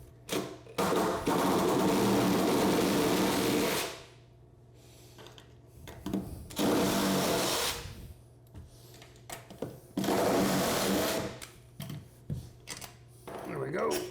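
Power driver spinning out screws from a bathtub water supply fixture, three long whirring bursts of several seconds each, loud and close, with quieter handling noises between them.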